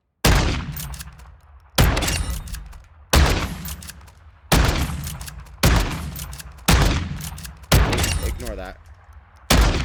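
Shotgun blasts at the firing range in Modern Warfare II, seven loud separate shots evenly spaced about a second and a half apart, each with a sharp crack and decaying tail, with brief speech in between.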